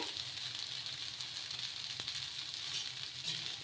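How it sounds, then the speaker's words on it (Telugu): Tomato pesarattu dosa frying on a hot pan gives off a steady, close sizzle throughout, with one brief sharp crackle near the middle and no talking. "ఇలా రెండు సైడ్లో బాగా కాల్చుకోవాలి"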